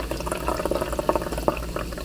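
Mountain Dew AMP Game Fuel Zero Charged Watermelon Shock pours from a can into a glass with a steady liquid splash and fizz, close and moderately loud, with brief bubbly clicks throughout.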